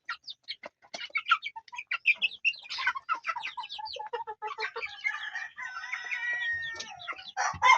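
Young chickens, a little over two months old, cluck and crow loudly and close by at feeding time in a farm coop, a busy overlapping chorus of calls with no voices.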